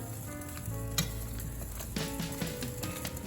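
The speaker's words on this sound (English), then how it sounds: "just let the cabbage continue to cook down some" Cabbage cooking down in a pot for a Sunday dinner, with a steady close sizzle and frying crackle, broken by occasional tapping and stirring clicks, and no talk.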